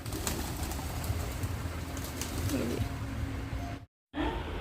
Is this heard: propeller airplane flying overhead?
no